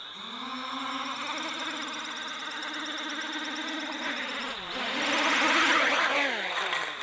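A wooden Arducopter multicopter's motors whine steadily at low throttle, a layered tonal buzz close by that swells louder and rises in pitch midway, with no talking over it.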